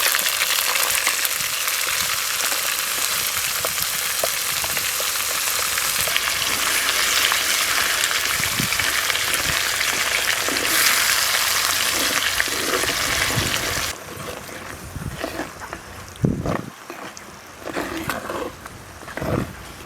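Onion and green chili paste fries with curry leaves for an Andhra punugulu curry, giving a loud, dense sizzle that drops suddenly to quieter crackling, broken by scraping stir strokes and a few thuds.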